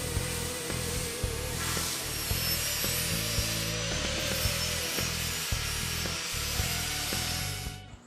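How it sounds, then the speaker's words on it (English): Angle grinder fitted with a flap wheel sanding a notched steel tube for an off-road prerunner bumper, one continuous close, loud grinding whir with a steady rumbling drone, fading at the very end. "Then we'll come back with a grinder using a flap wheel and actually sand down and fit it"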